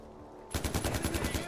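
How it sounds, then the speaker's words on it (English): Rapid automatic gunfire in the video game Far Cry 4 bursts in after a quiet half second, a loud, close string of evenly spaced shots with no talk over it. "Someone shooting."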